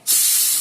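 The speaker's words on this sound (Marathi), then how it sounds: "कुकर शिट्टी काढून घेते." A pressure cooker holding dal, bottle gourd and tomatoes vents steam in one loud, steady hiss that starts abruptly and carries on without a break.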